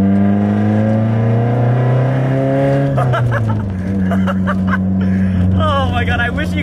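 A straight-piped Nissan S13 exhaust drones loud and close, holding high revs before dropping to a lower rumble, with a person talking over the engine near the end.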